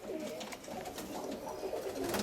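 Roller pigeons coo steadily and close by inside a breeding box that holds six paired couples, soft overlapping calls running continuously with no talking.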